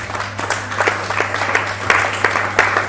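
A church congregation claps and applauds together in a hall, producing a steady wash of handclaps with some louder bursts. The applause is fairly close and fills the whole short stretch.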